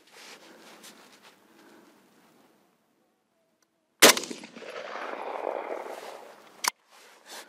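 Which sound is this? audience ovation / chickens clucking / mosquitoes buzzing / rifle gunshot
rifle gunshot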